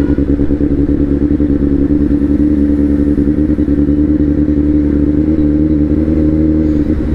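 Kawasaki Z900 motorcycle engine revving loudly and close, a deep continuous rumbling roar that holds steady for several seconds with no talking.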